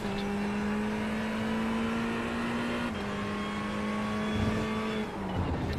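Ferrari engine screaming at full throttle in a racing video game, a loud sustained high-revving drone with a gear-change shift partway through and faint tire squeal, no talk.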